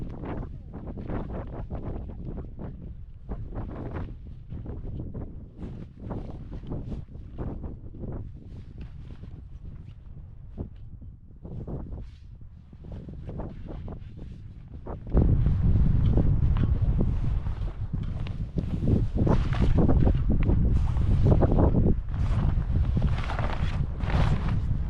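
Gusty wind on a sailboat in wintry, snowy Norway, a broad rushing roar buffeting the microphone that rises sharply halfway through and stays loud; no talking.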